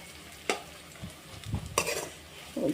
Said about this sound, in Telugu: అంతా కలిసేలా కలిపేసుకోవాలి